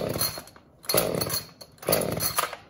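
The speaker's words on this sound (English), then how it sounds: "you tired of trying to get your power tools to start?" A gasoline chainsaw is being pull-started up close, giving three rasping, surging pulls in a row with short gaps between them and no voices.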